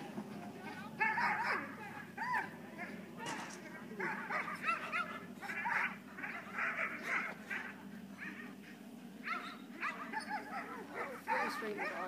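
Dogs running around outdoors, barking, yipping and whimpering over and over, with people talking throughout.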